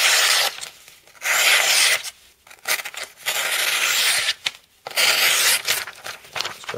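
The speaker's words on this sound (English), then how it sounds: "we'll do a quick cutting test with the Spyderco Manbug here" Spyderco Manbug knife with a factory VG10 edge slices through material in a cutting test, giving a series of close, rasping scraping strokes separated by short pauses.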